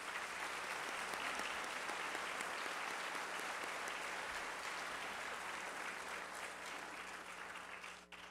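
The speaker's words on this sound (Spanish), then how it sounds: "Démosle un gran aplauso." Steady, sustained audience applause filling a hall at a university graduation ceremony, dense and even throughout before thinning slightly at the very end.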